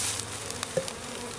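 A soft, steady insect buzz of honeybees from a package hums close by in the rain, with faint taps and a brief louder buzz midway.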